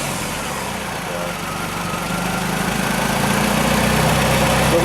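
A steady engine idles through a stock muffler with a slight exhaust leak, a low, even rumble and mild vibration, fairly close and constant throughout.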